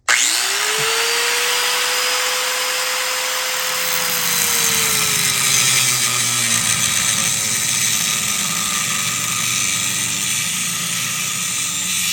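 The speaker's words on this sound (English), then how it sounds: "If all else fails, as in dead batteries, grab yourself a grinder." An angle grinder spins up with a rising whine and holds a loud steady high-pitched drone while grinding off bolts, close and alone without talk.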